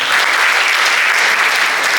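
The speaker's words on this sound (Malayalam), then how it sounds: "പ്രൊഡ്യൂസർമാർക്ക് രണ്ടുപേർക്കും വലിയൊരു കയ്യടി കൊടുക്കണം" An audience applauding the producers, loud continuous clapping from many hands that stays even for the whole stretch, with no one speaking.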